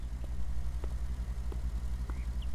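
A car engine in the video game Beyond Eyes hums low and steady with a regular throbbing pulse, fairly quiet and alone, with faint ambient ticks over it.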